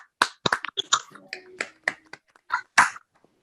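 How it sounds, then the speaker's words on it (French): A handful of scattered claps at an evening gathering for a coach, sharp isolated hand claps spaced unevenly, mixed with brief bits of voices rather than a full crowd ovation. "Une bonne main d'applaudissement pour lui."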